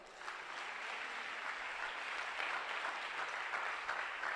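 A church congregation clapping their hands, a continuous, even patter of many hands heard faintly from a distance.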